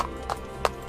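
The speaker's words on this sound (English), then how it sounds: "Annie rode her special horse, Falada, and the maid rode a pony." Horse hooves clip-clop, with two or three distinct knocks in a slow, even rhythm over a faint background tone.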